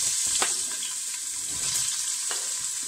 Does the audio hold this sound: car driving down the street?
no